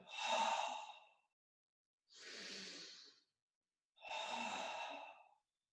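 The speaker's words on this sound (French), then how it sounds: "On vient faire 2 respirations abdominales." Three slow, deep abdominal breaths during a yoga exercise, each a long airy exhale separated by short silences, close and fairly soft, with no talking.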